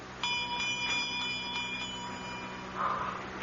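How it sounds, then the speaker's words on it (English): A small bell rings as a radio drama sound effect, a thin, bright, repeated tinkling with a few sharp strikes, faint and alone, with no talking. "I'm trying to see where that bell came from"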